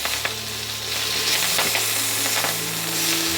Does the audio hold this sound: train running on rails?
no